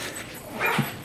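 A dog barks and whimpers briefly in the background during a podcast recording, a short faint outburst near the end of a quiet stretch with no speech.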